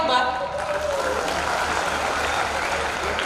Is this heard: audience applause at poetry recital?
yes